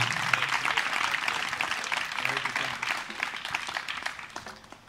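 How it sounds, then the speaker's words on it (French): An audience applauds steadily after a live band performance, a dense wash of clapping that holds for several seconds and then gradually fades. "Un grand merci, on peut les applaudir."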